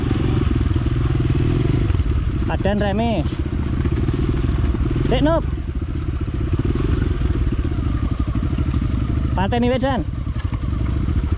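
Mini trail motorcycle engine idling steadily on a steep hillside during an off-road trail ride, a continuous low drone heard throughout beneath several bursts of people talking.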